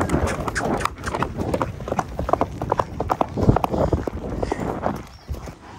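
A horse gallops hard while driving cattle across open ground, its hooves drumming in a fast, uneven rhythm close to the rider; wind and movement noise mix in and fade near the end.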